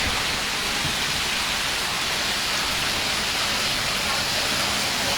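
Heavy, steady downpour lashed by strong wind at night in Jhuddo, Mirpurkhas, a dense broadband roar that stays loud and unbroken throughout with no voices.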